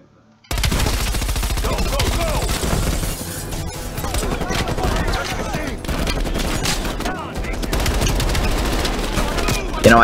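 Sustained automatic gunfire in Call of Duty: Black Ops Cold War, a dense, loud, continuous rattle of rapid shots lasting the whole stretch with only slight dips, punctuated by crashing impacts.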